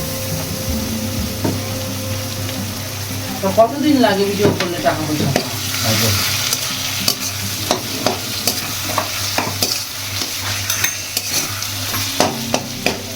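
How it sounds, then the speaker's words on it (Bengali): A ginger, garlic and green chilli paste sizzles with fried onions in hot oil in a pan and is stirred, giving a continuous sizzle with sharp scraping clicks from the spoon. A voice speaks briefly over the cooking. "এটাকে একটু নাড়তে হবে যতক্ষণ না মশলাটা থেকে তেলটা বেরিয়ে আসে"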